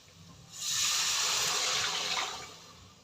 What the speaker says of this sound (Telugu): ఇప్పుడు మనం ఇందులోకి వాటర్ యాడ్ చేసుకొని